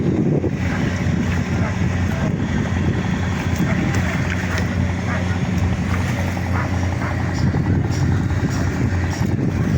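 Boats at a fishing landing port in Zamboanga City, a continuous loud rumble of engines and water mixed with heavy wind buffeting the microphone, with people talking throughout.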